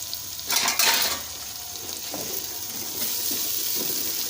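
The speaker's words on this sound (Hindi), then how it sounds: "आलूओं को भी हम 5 मिनट तक फ्राई कर लेंगे" Potatoes frying in a pan with ginger and garlic, a soft, close sizzle with a burst of clattering and spatula scraping near the start, then a steadier hiss.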